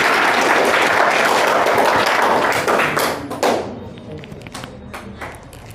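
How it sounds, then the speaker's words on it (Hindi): An audience at a school Prakram Diwas event applauds to welcome a class 10 student, loud sustained clapping that gradually thins out and fades over several seconds, with a few scattered claps and taps at the end. "जोरदार तालियों के साथ इसका स्वागत कीजिए।"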